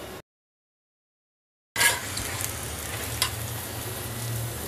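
Aloo paratha, a potato-stuffed flatbread, fries in ghee on a pan with a soft steady sizzle that starts abruptly after a brief silence and continues evenly, with no talking.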